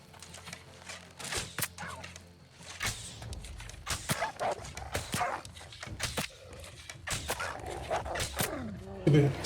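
A dog in the game New World barks and yips in sharp, irregular bursts, some close and loud, with whimpers between, over quieter game ambience and some talk.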